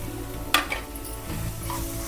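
Taro roots drop into a frying pan with onions and are stirred, a brief clatter followed by soft sizzling and scraping, close and fairly quiet.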